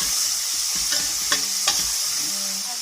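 Half a teaspoon of turmeric fries for a few seconds in hot oil for a moong dal and rice dish: a steady, bright sizzle with a couple of soft spoon scrapes in the middle.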